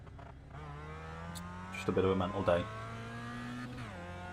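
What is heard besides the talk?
car engine revving in a racing video game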